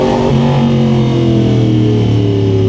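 Yamaha R1 sport bike engine revving loud and close, a strong tonal growl whose pitch climbs through the rev with no speech over it.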